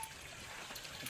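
Water running from a farm storage tank, fed by a buried submersible pump, a steady trickling flow heard close and fairly quiet.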